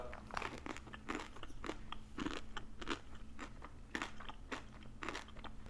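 Milka Mini Snow Balls chocolate is bitten and chewed close up, giving repeated crisp crunches in an irregular rhythm, quiet and with no talk.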